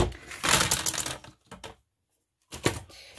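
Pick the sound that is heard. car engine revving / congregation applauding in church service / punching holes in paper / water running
punching holes in paper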